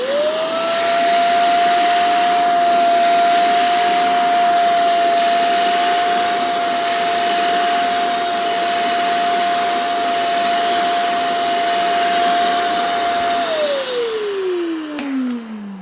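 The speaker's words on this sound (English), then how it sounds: "we're going to put our attachment on here, turn it on. You extract as normal through the little slots here on the head attachment" A Shark Stain Striker pet mess tool runs steadily as it extracts a spill, a loud continuous whine with a constant high tone that holds for about thirteen seconds, then drops in pitch as the motor winds down.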